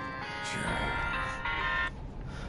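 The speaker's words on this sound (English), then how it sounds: "Sorry about that. That was my phone ringing." A phone rings with a Final Fantasy tune as its ringtone, a melodic tonal phrase that repeats over game audio, fairly loud and clear.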